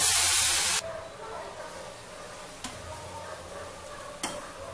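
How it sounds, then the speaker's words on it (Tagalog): Beef tenderloin hits a dry frying pan with no oil, giving a sharp loud hiss for a moment that settles into a faint steady sizzle with a couple of small pops. "Ito po, direct na po natin siya sa frying pan. Wala muna po siyang oil."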